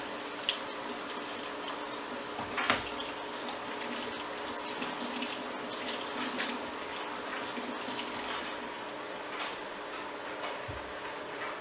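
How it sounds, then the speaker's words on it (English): Hands being washed under a running kitchen tap after handling raw venison and bacon, a steady close rush of water splashing into a sink with a few brief louder splashes, no voices. "Wash my hands. Because anytime you handle raw meat, always wash your hands."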